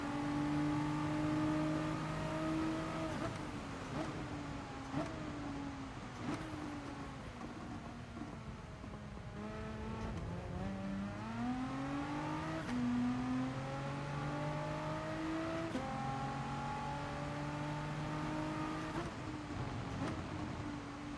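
A continuous racing car engine in the racing video game GT Sport hums and rises through gear changes, with harmonic whine climbing and dropping repeatedly, steady and fairly loud with no talking.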